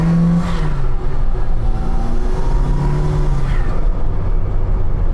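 A small-turbo classic Mk1 Mini Cooper pulls hard from low revs, its engine note climbing in rising sweeps through quick gear changes, loud and close from inside the car.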